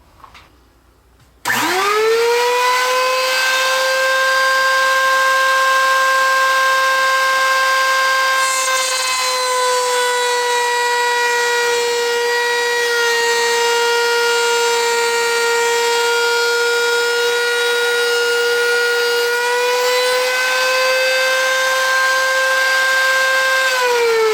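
A trim router mounted in a small homemade router table starts up abruptly, then runs as a loud, steady, high motor whine while cutting wood, with no talking.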